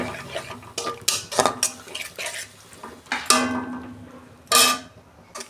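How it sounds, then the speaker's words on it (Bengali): A utensil stirs and sautés a spice paste of ground cumin and coriander with a little water in a pan for a fish curry, making irregular close scrapes and metallic clanks that get louder near the end. "আমি মশলাটাকে ভালো করে কষাবো।"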